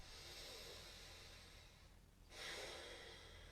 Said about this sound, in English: Breathing in, I know I'm breathing in a long breath.